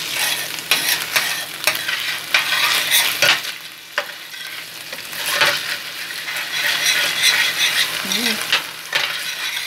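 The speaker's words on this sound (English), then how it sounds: "It's starting to sound really good. It's frying up." Red rice and prawns sizzle loudly in a hot pan, with bursts of scraping and stirring against the metal.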